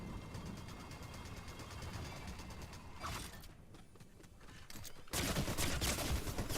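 Rapid gunfire and mechanical clatter from a Fortnite match, a dense burst of shots running throughout at steady loudness, easing off briefly then swelling again toward the end.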